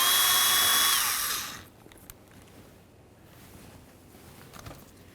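A power tool whirs loudly while backing out 10mm bolts from the front bumper cover of a 2003–2007 Honda Accord, then winds down after about a second and a half, leaving quiet with faint handling clicks.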